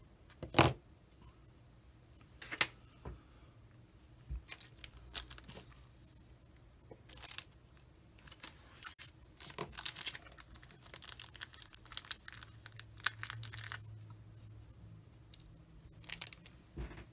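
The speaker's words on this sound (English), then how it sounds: "So let's cut the parts off." Cutters snip Tamiya plastic model parts for a 1/35 Panzer 38t kit off the sprue. There are faint, sharp, scattered clicks and snips with rustling between them, and no speech.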